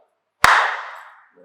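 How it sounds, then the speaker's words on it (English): One sharp clap rings out alone in a quiet room and decays over most of a second, followed by a faint trace of a voice. "One more clap."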